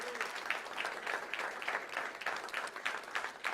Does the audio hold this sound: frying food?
no